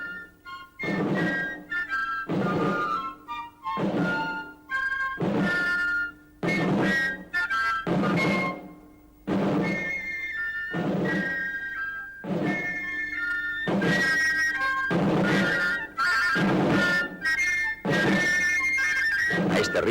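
An 18th-century grenadiers' military drum march pattern plays as regular, evenly spaced beats with a marching cadence, accompanied by fife-like tones over about twenty seconds.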